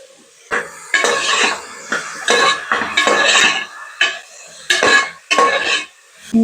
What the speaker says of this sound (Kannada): ನಾನು ಇವಾಗ ಹೆಚ್ಚಿಟ್ಕೊಂಡಿರೋ ಬೀಟ್ರೂಟ್ನೆಲ್ಲ ಆ್ಯಡ್ ಮಾಡ್ಕೊತೀನಿ.